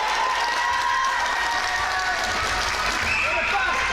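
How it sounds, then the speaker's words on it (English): A netball crowd cheers and claps for the Rams at an Ireland versus Isle of Man under-17 match, a steady roar of voices and applause that holds at an even level from start to finish. "Crowd are getting behind the Rams here."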